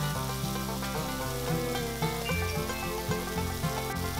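Binangkal dough balls fry in hot oil, a continuous steady sizzle that stays even and close for the whole stretch without any talking.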